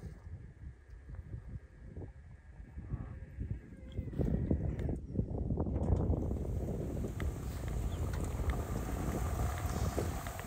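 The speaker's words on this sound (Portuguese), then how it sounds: "Negócio que às vezes não tem barulho nenhum, só vento." Wind buffets a hilltop in Sauerland, Germany, a rough, continuous rush and microphone rumble that swells louder about halfway through and stays strong, with no voices.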